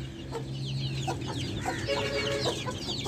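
Several chickens cluck and chatter nearby in short, overlapping bursts, with a low steady hum underneath.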